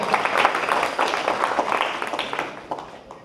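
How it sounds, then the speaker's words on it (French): A conference audience claps for itself in a lively round of applause, dense and close at first, then gradually thinning and fading away over a few seconds. "Applaudis pour vous parce que vous avez décidé de vous préparer"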